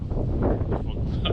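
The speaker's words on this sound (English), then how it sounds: "it's really windy." Strong wind buffets the microphone outdoors in Sweden, a continuous loud, low rumbling roar with gusty swells and no other clear sound.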